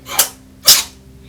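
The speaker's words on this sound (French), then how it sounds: "Oh oui, ça éternue." A cat sneezes twice in quick succession, two short, sharp bursts heard close up.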